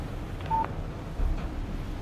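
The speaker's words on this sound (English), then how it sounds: "text message from Barry" A short electronic phone alert for an incoming text message in the video game Alan Wake: a brief single tone followed by a faint second blip, quiet over low ambient background noise.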